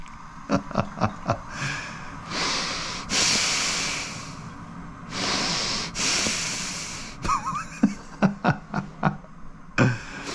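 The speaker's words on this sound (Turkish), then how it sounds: "evet, sesle nefes alıp veren bir insanım." Close, loud breathing: sharp nasal sniffs and snorts alternating with long, hissing exhales, all without speech.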